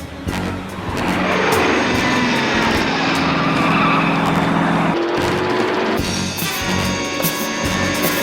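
A black limousine speeds south on the motorway, a loud, sustained engine roar rushing close by and swelling then shifting in pitch as it passes.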